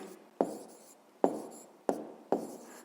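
A pen writes down an answer to a fifth-grade math problem, four short scratchy strokes spaced unevenly, close and quiet with no talking.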